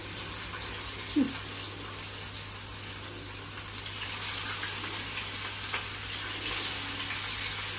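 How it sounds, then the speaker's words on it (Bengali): Fish fries in a pan in a home kitchen, giving off a continuous, fairly loud sizzle and hiss. A few soft knocks and clatters sound close by. "মাছের কিন্তু ছ্যাঁচ ছ্যাঁচ শব্দ হচ্ছে"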